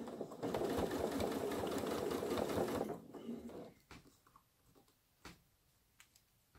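Sewing machine stitching upcycled denim jeans fabric, a fast whirring chatter of needle strokes for about three seconds, then it stops and leaves scattered clicks and handling taps, close and fairly quiet.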